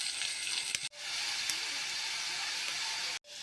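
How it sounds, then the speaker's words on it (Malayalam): Chopped snake gourd hits hot oil in a pan, giving a loud, dense, steady sizzle that stops abruptly twice before resuming, close up and without talking. "എണ്ണ ഒഴിച്ചിട്ടുണ്ട് ഇനി പടവലങ്ങ ഇട്ട് കൊടുക്കാം അരിഞ്ഞ് വെച്ച പടവലങ്ങ ഇട്ട് കൊടുത്തു"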